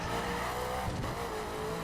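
A Ferrari race car in The Crew video game on the Laguna Seca track drives at speed, a continuous engine whine with a brief tire squeal partway through, fairly quiet and without talk.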